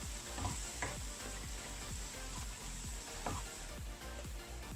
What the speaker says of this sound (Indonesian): ini kita tumis kembali ya guys, sampai dia harum